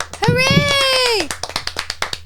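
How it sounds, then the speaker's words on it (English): A small group of people clapping for themselves after a sung or cheered line: a voice holds a long note, then a quick, uneven patter of close hand claps follows. "We just start clapping for ourselves now?"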